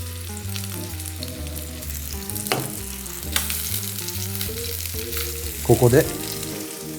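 Leeks and duck fry in a pan with a continuous sizzle and crackle, set against background music and a short spoken phrase, with a brief louder burst of spattering near the end.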